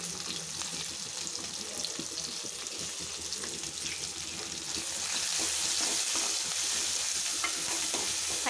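Ginger garlic paste fries with onions in a pan, giving a constant close sizzling hiss with faint stirring scrapes underneath, growing slightly louder toward the end.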